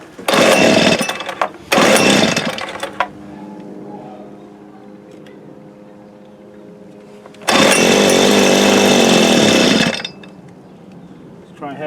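A 1983 Toro TC 300 string trimmer engine tries to start in three loud, rough bursts of sputtering roar: two short ones close together, then a longer one after a quieter pause.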